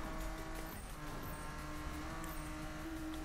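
A BMW M3 GTR race car in the Need for Speed video game, its engine droning steadily and held at a fairly quiet level with no talk over it.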